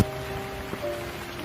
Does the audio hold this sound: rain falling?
yes